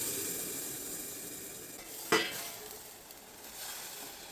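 Gujarati dal tempering with mustard seeds, cumin, asafoetida, curry leaves and red chilli in hot oil gives a steady sizzle close by, with one sharp burst of hissing partway through as ingredients hit the pan.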